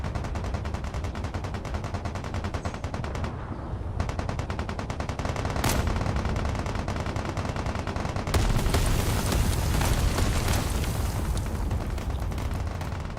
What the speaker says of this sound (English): You can see there's more mortars just firing back and forth everywhere.